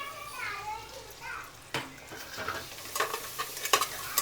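Ginger garlic paste fries in a pan at home, with a soft sizzle and scraping stirs, while children's voices chatter and play in the background.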